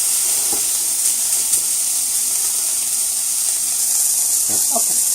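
Chicken sizzles on a grill in a steady, soft hiss that runs throughout, with a couple of brief clanks from turning the pieces.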